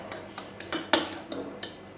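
Spices being mixed together in a bowl with a spoon, a series of light clinks and taps at an uneven rhythm, close and fairly quiet with no talk.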